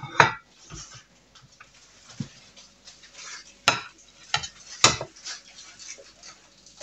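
Soy sauce omelette being moved from a frying pan onto a plate with a wooden spoon: a few sharp clinks and scrapes of utensil on pan and plate, spaced irregularly over a faint background, close by.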